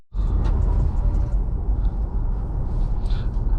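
A 2024 Cadillac XT4 Sport AWD with a 2-liter turbo pulls away, giving a steady low engine and road rumble that stays fairly loud and even from start to finish, with no talking.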